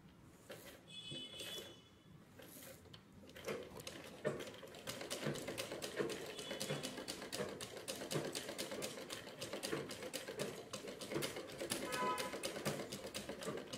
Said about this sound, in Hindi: start your machine with the pedal.